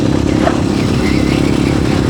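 A motorcycle engine drones steadily throughout, a constant close rumble with some rattling clatter, as if heard while riding.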